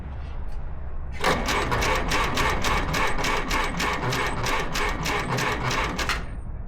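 A 1949 Farmall Cub tractor engine, out of gear with the throttle up, turns over in a rapid, even string of loud pulses for about five seconds, then cuts off abruptly.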